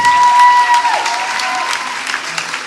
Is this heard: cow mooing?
no